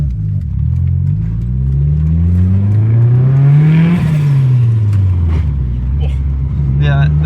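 Turbocharged Mitsubishi Evo engine, a budget build with an upgraded turbo, revving up to a peak and dropping back, loud and close, with the pitch climbing and then falling.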